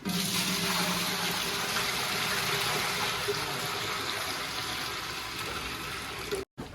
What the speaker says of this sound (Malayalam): ഇനി അതിലേക്ക് നമുക്ക് വെള്ളം ചേർക്കാം